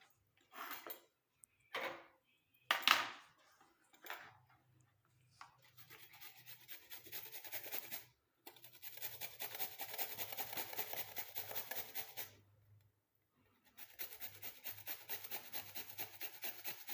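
A peeled ingredient is rubbed against a hand grater in a home kitchen, giving a few short rasping strokes at first and then long, steady scraping passes, close and fairly quiet, with no talking.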